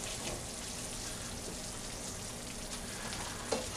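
Chicken pieces for a homemade fettuccine Alfredo land in a hot pan with the heat shut off, giving a faint, steady hissing sizzle with a small clink near the end.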